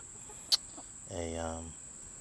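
A backyard hen among a small laying flock gives a short drawn-out cluck after a brief sharp click, close and clear over a quiet background with a steady high insect-like tone.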